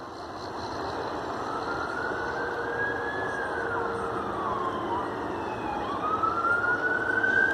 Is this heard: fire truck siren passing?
yes